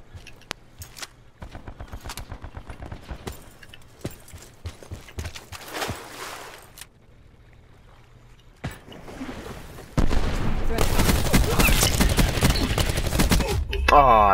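Gunfire in Call of Duty: Black Ops 4, a multiplayer Firebreak/Crash skirmish on PS4: bursts of rapid shots and scattered single reports, then a loud sustained barrage of automatic fire near the end, with occasional voices.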